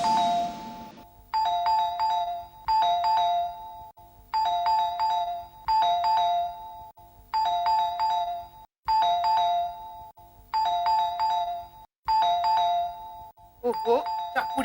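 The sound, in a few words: doorbell ringing repeatedly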